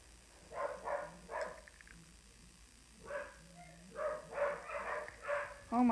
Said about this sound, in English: the amount of barks that are going on downstairs